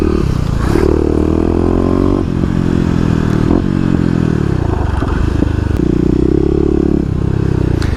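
A 2018 Kawasaki KLX250 dual-sport motorcycle is ridden around the city, its single-cylinder engine revving up and down in repeated surges, loud and close throughout.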